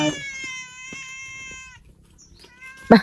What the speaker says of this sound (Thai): เออน้องแมว ไป